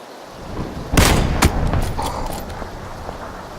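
Gunfire in PUBG: Battlegrounds ending in a headshot: two sharp, loud shots about half a second apart, followed by a lingering rumbling tail under distant, softer game noise.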